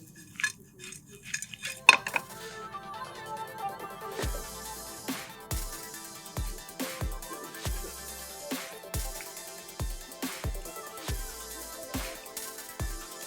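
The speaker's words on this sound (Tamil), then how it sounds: "எல்லா சின்ன வெங்காயத்தையும் இதேமாரி நம்ம கட் பண்ணிக்க போகிறோம்" Shallots are chopped into quarters on a cutting board, giving a steady run of sharp, close knife knocks in an even rhythm, with no one talking.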